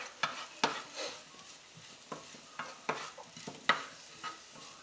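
Paleo pizza ingredients fry in a pan over medium-high heat, a soft sizzle under repeated scraping and stirring strokes from a utensil at an uneven rhythm.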